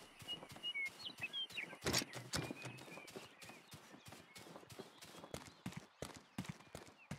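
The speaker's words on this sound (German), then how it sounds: "Da haben wir ein Pferd." Horse hooves clip-clop across the ground in a western video game, a run of quick, even, fairly crisp beats with a louder thud near the start and faint bird chirps behind.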